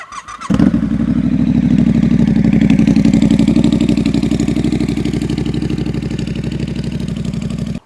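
A Triumph Scrambler 1200 fitted with slip-on exhausts fires up and settles into a loud, deep, raspy idle, close by and steady for several seconds.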